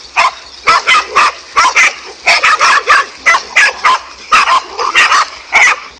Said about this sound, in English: this king cobra managed to get in trouble with a pack of 5 dogs